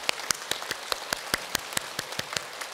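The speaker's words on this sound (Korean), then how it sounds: "우리 박수 한번 쳐볼까요?" A church congregation claps hands together in a steady, quick unison rhythm, about a dozen crisp claps at moderate volume with no talking.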